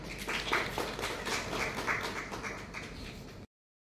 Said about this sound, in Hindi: अपने लिए आप ताली बजाएंगे।